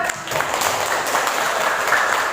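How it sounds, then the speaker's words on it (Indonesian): Applause from a class of students in a social studies lesson, a short, steady burst of many hands clapping close by at moderate volume. "Tepuk tangan."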